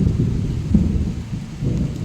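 Thunder rumbles low and heavy from storm clouds, a deep rolling swell that rises, eases and rises again alongside a rainy hiss.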